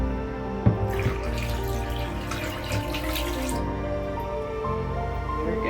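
Liquid trickling down a slow-draining boat shower drain, a steady close dripping and running water sound with a small knock near the start, no talking.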